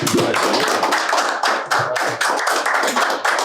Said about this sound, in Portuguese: Salva de palmas, cara.